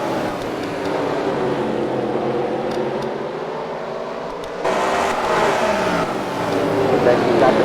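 Racing cars run around a track in a team race event, a steady, loud engine drone that swells slightly partway through, heard under a commentator's voice.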